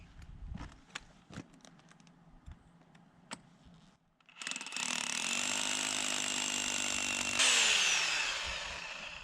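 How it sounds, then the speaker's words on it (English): A power drill boring into a concrete stem wall footing kicks in after a few scattered knocks, then runs as a loud, steady whine for about five seconds, its pitch shifting near the end. "footing's only 8 inches thick, so I'm going to drill it about 4 inches."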